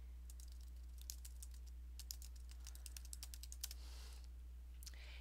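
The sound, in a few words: typing a note on a computer keyboard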